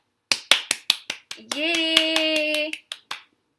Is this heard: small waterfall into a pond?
no